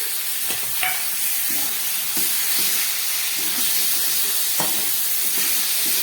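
Fried potatoes sizzling in a pan with ground mustard paste, chilli and turmeric, a steady hiss of frying under repeated spatula stirs and knocks, close and without talk.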